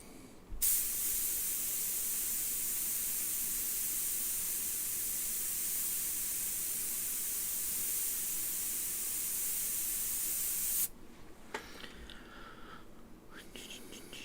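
A spray gun sprays paint onto a guitar body, a steady loud hiss running unbroken for about ten seconds before cutting off, followed by faint handling noises.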